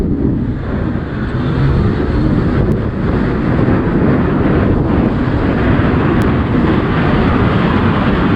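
Loud, steady roaring wind buffeting the microphone throughout a high-speed motorbike police chase, a continuous broadband rush with no pauses and no talk.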